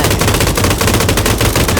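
Loud, continuous automatic gunfire in the video game PUBG, shooting at trees, rattles in rapid bursts without pause.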